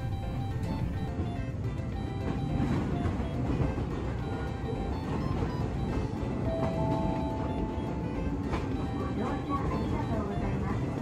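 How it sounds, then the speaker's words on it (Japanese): A Daiyūzan Line train rumbles steadily as it pulls away from Odawara Station in Japan, with a continuous low mechanical drone and faint tonal whines throughout. "さあ、小田原駅を発車です。"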